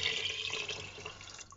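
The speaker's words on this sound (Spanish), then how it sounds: "Y vamos a añadirle ya el agua" Water is poured into a pot of lentils in a GMD cooker, a soft continuous trickling splash that fades toward the end.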